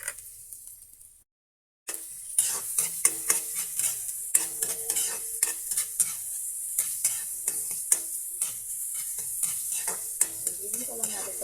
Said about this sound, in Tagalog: magigisa na tayo